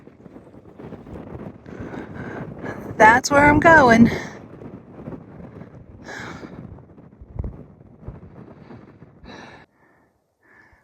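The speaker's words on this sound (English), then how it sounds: "It's windy up here." Wind buffets the microphone in rough, rumbling gusts on a mountain top, strongest in a brief loud burst, while someone speaks close by.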